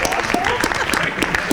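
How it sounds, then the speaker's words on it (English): At a school board meeting, a small group claps briefly, with sharp scattered hand claps close by and voices talking underneath. "Are you clapping for yourself, Ms. Carson?"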